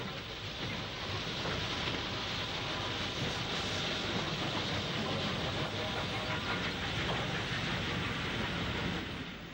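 Steam locomotives of the West Coast Main Line pass Oxley North Junction in 1965, a steady broadband rumble and hiss of the moving train, fairly faint and unbroken throughout.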